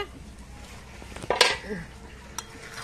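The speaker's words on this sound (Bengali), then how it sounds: "বারবার নাড়াচাড়া করে দেব, কারণ তলানিতে না লেগে যায়।" A spoon works through broken rice cooking in a pot, giving brief metallic scrapes and a sharp clink against the pot's side amid quiet background, with a voice speaking over it.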